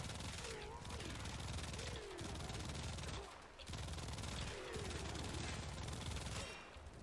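Twin Stubbas pistols firing in the video game Warframe, rendered as a dense, continuous rattle of rapid gunfire with brief breaks for reloads and a faint voice talking underneath.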